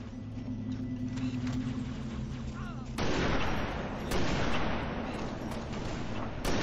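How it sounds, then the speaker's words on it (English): Gunfire in the video game Halo: The Master Chief Collection crackles loudly, a dense burst of rapid shots over a low rumbling ambience, with game voices briefly heard. "Gunfire."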